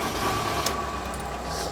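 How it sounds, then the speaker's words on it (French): Camper van engine idling steadily and close, a low continuous rumble with no other sounds, after being started while a DC-DC booster charger links the engine and auxiliary batteries. "je mets le contact, j'allume le moteur"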